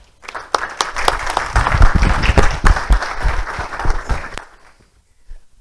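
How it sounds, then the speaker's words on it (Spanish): A short burst of audience clapping at an astronomy talk, rising quickly into loud, close, uneven hand claps with sharp individual smacks, then fading out abruptly toward the end. "pido un aplauso para ellos"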